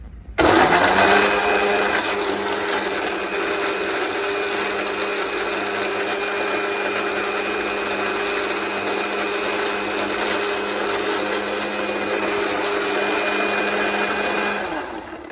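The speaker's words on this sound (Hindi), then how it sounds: "और ये मैं मिक्सी में लगाने लगी हूँ" A kitchen blender whirs steadily at high speed for several seconds while making a banana shake, a loud continuous motor drone starting abruptly and holding constant.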